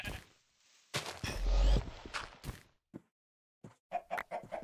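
Short clucking chicken calls and soft footstep-like thuds from the video game Minecraft, sounding in brief, irregular bursts separated by silent gaps.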